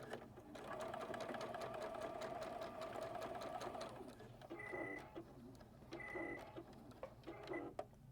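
A Juki HZL DX7 sewing machine stitches rope, running in a rapid, steady whir for several seconds, then sews in short bursts separated by bright electronic beeps, close and fairly quiet.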